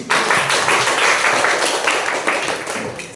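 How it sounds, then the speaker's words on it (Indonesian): A school class of ninth graders applauds together in a classroom, a dense burst of clapping that holds steady for about three seconds and then stops abruptly. "Tepuk tangannya mana 9C"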